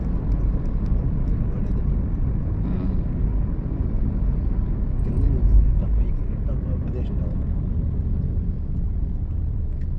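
An old bus engine around Phuket rumbles low and steady throughout, a dense continuous drone with muffled voices underneath.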